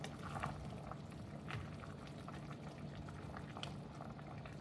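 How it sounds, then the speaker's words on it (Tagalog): A pot of Filipino sinigang soup bubbles at a steady boil, a soft continuous burble and simmer with small pops, faint and close, with no talking. "Kumulo na siya mga langga."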